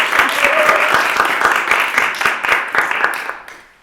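A small group in a college newspaper office applauds a punk band, a burst of close, loud hand clapping that holds steady for a few seconds and then fades out at the end.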